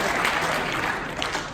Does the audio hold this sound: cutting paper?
no